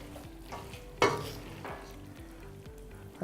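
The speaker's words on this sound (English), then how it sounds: "The reason I'm stirring it up is just to make sure that I don't overserve one of the ingredients of the other" Linguine sauce stirred in a pan, a steady scraping swirl over a low sizzle with one louder clack of utensil against pan.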